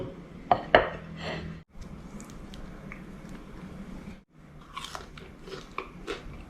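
Crispy fried carp seasoned with chili and salt is bitten and chewed close up, a few sharp crunches at first followed by quieter repeated chewing and small crackles.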